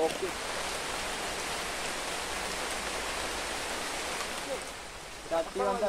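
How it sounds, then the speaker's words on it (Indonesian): Heavy rain pours steadily at a campsite during a storm with strong wind, a dense continuous hiss filling the air, with brief faint voices near the end. "ini hujan deras sobat ya"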